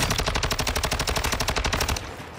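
Rapid automatic gunfire from a video game, a sustained burst of evenly spaced shots, loud and close, stopping abruptly near the end with no talk over it.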